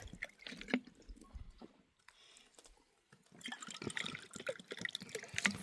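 Water drips and trickles close by in a wild fig and mountain grape harvest setting in the Zagros, irregular splashes and patters coming in bursts with a quiet gap in the middle.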